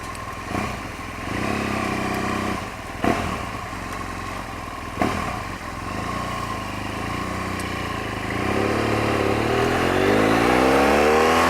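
Traffic with many motorbikes passing, seen from a vehicle waiting to turn left, as loud continuous engine drone and revving with a few sharper surges and a rising engine pass near the end.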